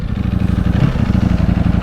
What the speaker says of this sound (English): I love the sound of the engine.